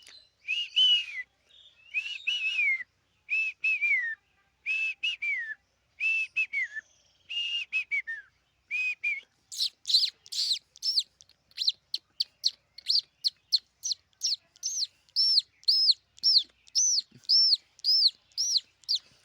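A human voice whistles an imitation of sparrows and other dawn birds: a run of slow, separate descending chirps, then quicker, sharper tweets in a rapid repeating series, clear and close, with no talking.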